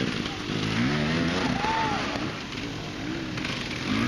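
Motocross motorcycles racing at the Needmore GP at Fair Play, Missouri, engines buzzing and revving with rising and falling pitch over a constant drone, a voice speaking over them.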